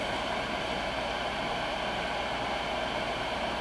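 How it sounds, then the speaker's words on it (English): Cooling fan of a PBL VL-1000 video light runs with a steady, broadband hiss-like whoosh and faint low hum, constant and unchanging throughout with no talking. "Right now, what you are hearing is the fan."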